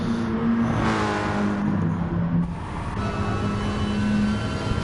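A VW race car engine in the GT Sport video game drones and revs steadily on an out lap, a loud continuous tone that rises and dips through gear changes, with no talking.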